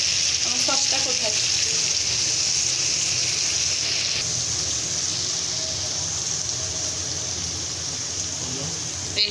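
Onion and garlic sizzling in a hot pan of oil, a loud, continuous frying hiss with occasional stirring scrapes close to the pan.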